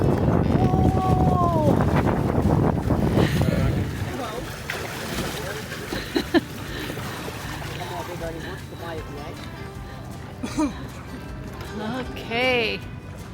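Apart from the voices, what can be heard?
wind while sailing on a boat in Boracay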